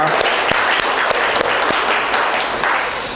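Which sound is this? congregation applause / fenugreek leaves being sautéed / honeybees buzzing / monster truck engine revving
congregation applause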